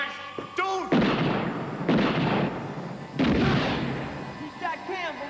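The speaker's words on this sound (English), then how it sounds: "He shot Campbell, man" Three loud, booming gunshots ring out about a second apart, each with a long echoing tail, and brief voices come before and after them.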